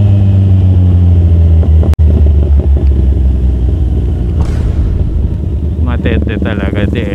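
A Kawasaki Z1000 roars loudly while being ridden on a road in Bulacan, its deep engine rumble holding steady with rev changes, and a rider's voice whoops and talks over it.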